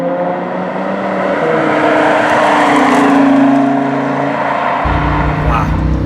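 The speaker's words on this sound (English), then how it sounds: "the shifts, you can hear them, the shifts are unbelievably fast" A Lamborghini Huracan accelerates hard at low speed, its engine note climbing and then dropping sharply as the dual-clutch gearbox snaps through rapid shifts, a loud steady roar close by with a voice speaking over it.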